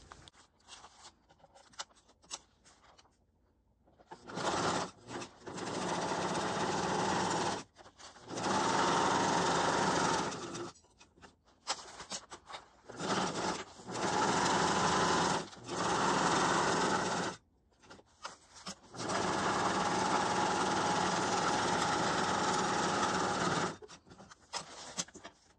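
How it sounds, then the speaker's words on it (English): Sewing machine stitching three sides of a pouch made from a cereal bag, running in several bursts of steady whirring separated by short pauses. "So I'm gonna sew those three sides like that."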